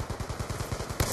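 Rapid gunfire in a shooter video game, a quick regular string of about a dozen sharp cracks, then one louder close shot at the end.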